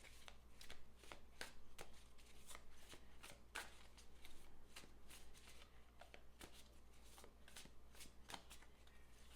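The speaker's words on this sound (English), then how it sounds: "I usually just shuffle until a card jumps out at me physically" Tarot cards being shuffled over and over, crisp riffling snaps in a quick irregular rhythm, close and fairly quiet, with no talking.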